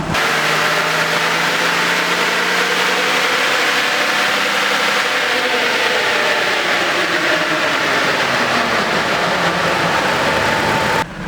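A Toyota Landcruiser 100 series with a 1HD-FTE diesel engine runs hard through a power run, a loud, steady mechanical drone with shifting tones that rise and fall over eleven seconds, with no talking.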